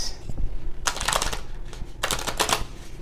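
A deck of playing cards being shuffled, two quick riffling bursts with brief clatter between them, close and fairly loud with no talking.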